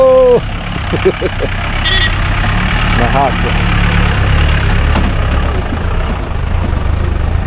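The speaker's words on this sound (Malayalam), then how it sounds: "എഞ്ചിൻ സൗണ്ടൊക്കെ മേജറിൻ്റെ ഒരു പ്രത്യേക രസമാണ്" A Mahindra Major jeep engine works its way up a hill road, a steady low rumble and idle-like drone running throughout, with a voice speaking briefly at the start.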